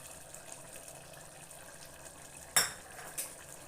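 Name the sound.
stirring curd into half-cooked mushroom biryani in pot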